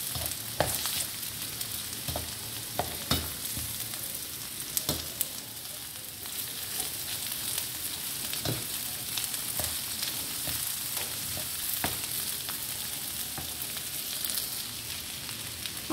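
Grated potatoes stir-frying over full flame for a mutton spring roll filling, a steady sizzle with repeated sharp scrapes and knocks of a spoon against the pan, continuous and fairly close.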